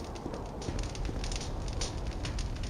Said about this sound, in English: Listen to the crackling.